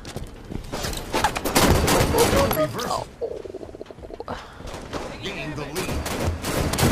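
Gunfire bursts from a SWAT tactical video game rattle through most of the stretch, loud and dense with rapid repeated shots, with a short lull near the middle; a player's voice speaks briefly over the shooting.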